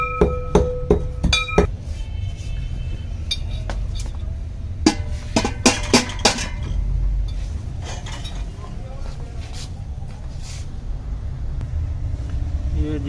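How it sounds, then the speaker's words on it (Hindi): Amber, a costly ingredient, ground by hand in a kharal mortar and pestle: a quick run of hard, ringing clinks and strikes at first, then scattered sharp taps over a low, steady rumble. "ये जो अंबर है हम इसको अभी खर्ल करेंगे इसमें"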